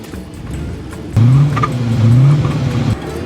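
An old car engine cranks and catches, settling into a loud, steady low rumble that runs for a couple of seconds before cutting off.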